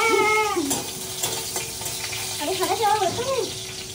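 Chillies drop into hot oil as a tempering for a home-cooked meal, giving a loud close burst of sizzling that settles into crackling frying. A voice-like tonal sound rises briefly at the start and again near the end.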